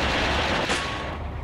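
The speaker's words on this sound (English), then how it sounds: "just got struck by some machine gun fire, I think." Machine gun fire strikes a submarine in the World War II naval game Silent Hunter 4: Wolves of the Pacific, a dense, continuous roaring clatter, loud and close, with no one talking.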